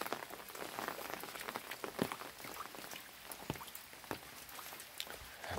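Rain patters steadily over a vegetable garden, with dense scattered drops striking plants and surfaces and a few louder nearby plinks, and no voices.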